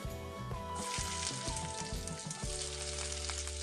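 Three medium chopped onions hit hot oil in a pan for restaurant-style butter chicken, a loud close sizzle that flares and holds steady, with rhythmic scraping stir strokes through the first half.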